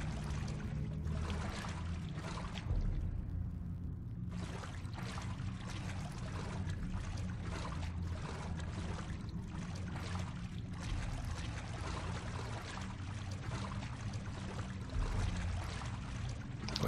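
Wading through flooded water in The Last of Us, a steady splashing and sloshing that runs continuously and fairly loud, with a low rumbling ambience underneath and no talking.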